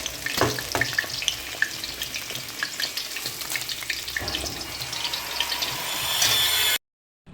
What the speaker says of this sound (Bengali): সব পনিরগুলো ভাজা হয়ে গেছে, এখন আমি এগুলো নামিয়ে নিচ্ছি।